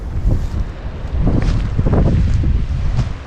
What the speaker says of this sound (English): a little windy, but not as bad as yesterday